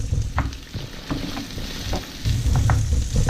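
Onion and thyme sautéing in a pan, a steady close sizzle with intermittent scraping as they are stirred, no voices over it.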